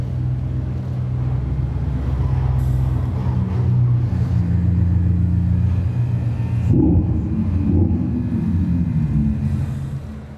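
The Mercedes-AMG GT concept four-door coupe's engine rumbles deep and loud at a press event, swelling and falling with a sharp rev burst partway through.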